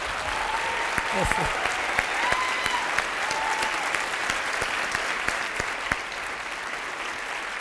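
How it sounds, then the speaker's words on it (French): A crowd applauds a chef at a food event in Québec, with steady, dense clapping throughout and a voice briefly speaking over it. "Une très bonne main d'applaudissements pour M."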